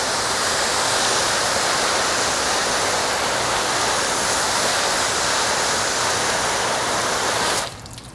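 Steady, loud spray of water drumming onto ceramic-coated test panels, a dense continuous hiss that cuts off abruptly near the end.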